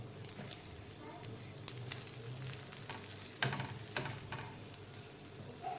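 Oil sizzles and crackles steadily on a hot pan while a Navratri special dish cooks, a continuous frying hiss with a few louder spatters partway through.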